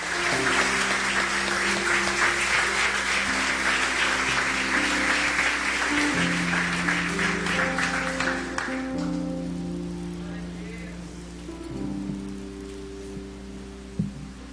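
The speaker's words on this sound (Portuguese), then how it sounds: "Será que vocês podem aplaudir o Senhor?" A church congregation applauding during a communion service, dense sustained clapping for about nine seconds over steady organ or keyboard chords, then fading out as the music continues alone.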